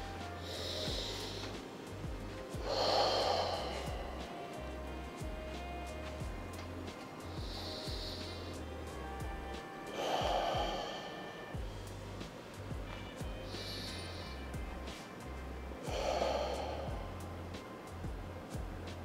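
Slow deep breaths during stretching after boxing, three strong exhalations spaced about six seconds apart, close and fairly loud over a low rhythmic music bed.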